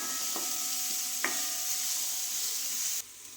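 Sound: stirring mustard seeds and chili frying in a pan

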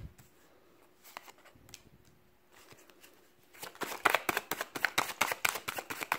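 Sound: shuffling a deck of cards

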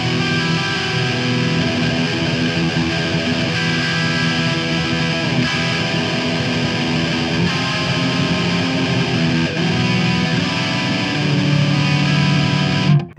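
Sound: distorted electric guitar open chords through Marshall Valvestate amp

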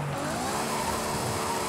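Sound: car engine revving in Forza Horizon 5 video game

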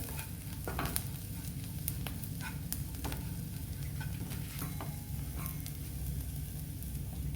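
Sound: stirring salt and coriander powder in a pan for kurdai bhaji

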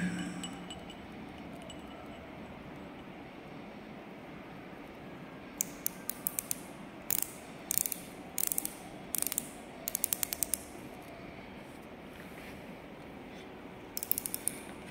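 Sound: micrometer ratchet clicking while being rotated

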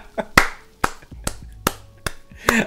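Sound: hand clapping

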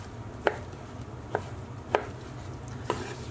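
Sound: knife chopping raw lamb into cubes

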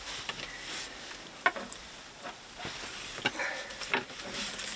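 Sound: frying fish

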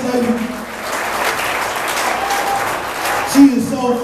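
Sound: audience applause

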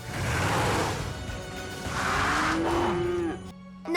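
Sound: cows mooing

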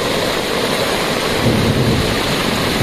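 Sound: rain

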